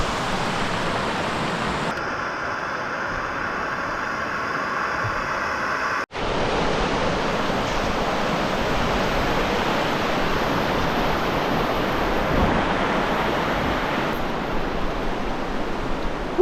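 A river rushing steadily in Nelson Lakes National Park, a broad, loud, constant wash of flowing water close by with no speech, briefly cut by a short dropout partway through.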